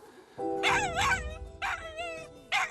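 An old dog, fourteen years old and distressed after losing its mother, whimpers and yelps in drawn-out, wavering cries. The cries come close and loud in three bursts with short gaps between them.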